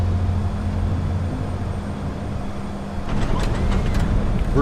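Thrust reversers on an E-Jet landing in Microsoft Flight Simulator: a steady low engine roar that swells louder partway through, with brief rattling bursts over the rumble.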